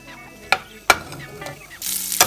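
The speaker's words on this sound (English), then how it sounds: "Stir a bit more to mix in the garlic." Shrimp and garlic stir-fry in olive oil in a pan, under a steady sizzle. A utensil strikes the pan with a few sharp clacks, and the frying swells louder toward the end.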